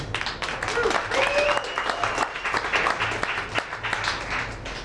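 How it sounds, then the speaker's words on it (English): A round of applause for speakers at a conservative political event in Arizona, scattered sharp claps from a modest crowd, steady and fairly close, with a voice talking over it. "Let's give them another round of applause"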